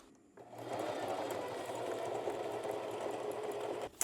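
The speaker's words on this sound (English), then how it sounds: "We'll sew across here" A sewing machine stitching shower awning fabric starts up and runs in a steady, close, continuous whir for several seconds, then stops abruptly with a small click at the end.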